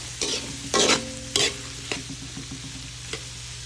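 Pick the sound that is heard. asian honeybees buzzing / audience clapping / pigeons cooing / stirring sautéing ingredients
stirring sautéing ingredients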